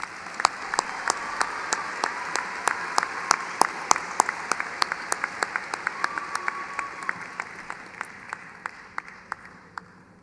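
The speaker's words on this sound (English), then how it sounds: "Let's give Shekinah a warm round of applause" A commencement audience applauds a graduate at an undergraduate ceremony, with sharp, sparse individual claps standing out over a soft, steady bed of distant clapping that continues throughout.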